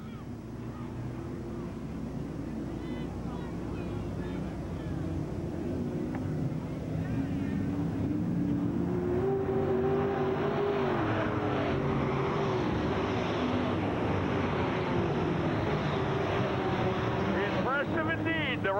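Race cars, including car number 21 with a brand new Richards Racing car, roaring around a racetrack at night, a constant loud engine drone with wind buffeting, under continuous announcer commentary.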